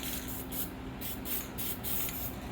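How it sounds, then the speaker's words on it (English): A spray can hisses in short repeated bursts, a steady rhythm of sprays with brief gaps between them, close up. "Spraying on the outline of our planet."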